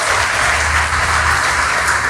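An audience at a Patidar community seminar claps loudly for the whole team, a close, dense burst of applause that stays full and steady from start to finish.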